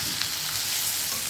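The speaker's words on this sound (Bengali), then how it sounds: "এবার একটু গ্যাসের আঁচটা কমিয়ে দিয়ে ভালো করে মশলাটা কষিয়ে নিচ্ছি।" Masala spices frying in a pan over lowered heat, a steady close sizzle and hiss with no break.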